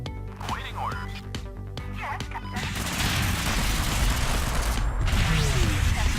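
Rapid gunfire, booms and crashes from a mech combat video game in a privateer convoy battle, loud and dense throughout, with a steady rumbling bed swelling in the second half.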